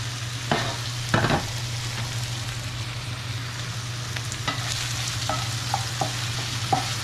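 Steak and onion for Mexican-style carne a la mexicana sizzle steadily in a preheated pan, with a few sharp clatters of a utensil stirring and scraping through the mix, close and alone.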